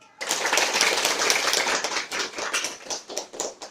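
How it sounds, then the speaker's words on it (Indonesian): A class claps together after finishing a practice session on product arrangement, dense fast applause starting abruptly and thinning into scattered claps toward the end. "Kita bisa aplaus untuk kita sendiri."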